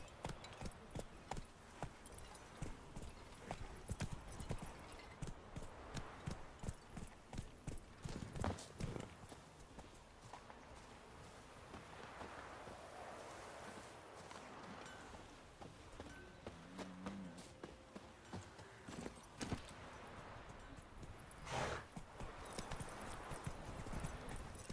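Horse hooves clip-clop steadily in The Witcher video game, a continuous rhythmic trot of fairly close, moderately quiet hoofbeats with no other sounds over them.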